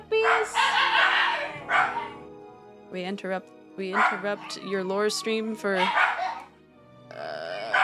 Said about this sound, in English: So they bark, but they also scream. That's the Shiba scream.